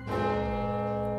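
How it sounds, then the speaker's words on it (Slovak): A single deep midnight church bell strikes once, loud and close, its rich metallic tone ringing on and slowly fading. "A preto úpenlivo čaká, kedy sa ozve hlas polnočného zvona."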